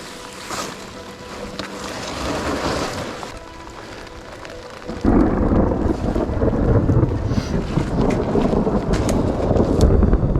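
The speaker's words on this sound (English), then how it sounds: "That was thunder." Thunder rolls low and heavy during a rainy night camp beside a Missouri trout stream, a long rumbling swell under steady wind and rain noise with no talking.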